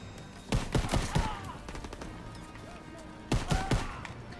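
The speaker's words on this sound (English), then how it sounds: "Get advantage of those MGs firing on our position." Machine guns firing in Call of Duty: WWII on a D-Day battlefield, two close, loud bursts of rapid shots at the start and end, with scattered distant fire between.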